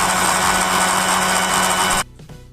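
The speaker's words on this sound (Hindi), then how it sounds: "अब जूसर का सर बंद करके आपने स्टार्ट कर लेना है।" A kitchen juicer machine grinds banana peel pieces with water, a loud steady whirring motor drone that runs continuously, then cuts off abruptly near the end.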